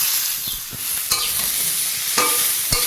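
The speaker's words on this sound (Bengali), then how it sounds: "একটু নেড়ে চেড়ে নেবো সবজির সঙ্গে" Tomatoes and chilli stirred together with vegetables in a hot pan, a loud steady sizzle and hiss broken by a few scraping strokes of the spoon, close by with no talking.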